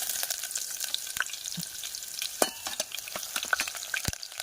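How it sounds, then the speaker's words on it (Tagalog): Onion hits hot cooking oil and crackles in a close, steady sizzle with scattered sharp pops, and there is no talk over it. "Ayan, lagyan na natin itong ating sibuyas."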